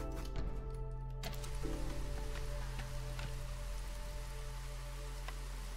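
Steady patter of rain from a rain engine in the city-builder Against the Storm, continuous and even over a low hum of game ambience, with no voices.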